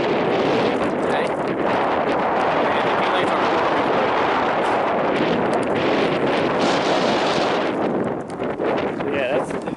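Steady, loud wind roars and buffets the microphone throughout at a downtown railroad crossing in Cleburne, Texas, with a gong-type crossing bell fitted with a wind guard nearby; a voice talks over the rumble.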